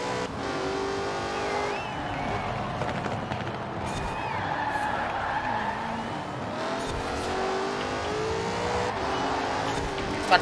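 Car engine drones steadily in Forza Horizon 4 while tires squeal and skid through turns, a continuous racing-game mix heard at an even, loud level.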